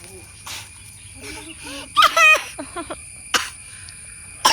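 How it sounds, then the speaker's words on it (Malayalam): A couple of short, sharp coughs stand out against a quiet outdoor background, with a few people talking in between. "അയ്യോ ചുമക്കല്ലേ"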